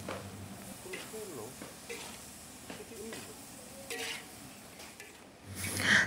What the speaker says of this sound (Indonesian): Setelah itu cuminya kita masukkan, cumi yang sudah kita rebus sebentar tadi. Nah, kita masukkan dan kita masak sebentar saja.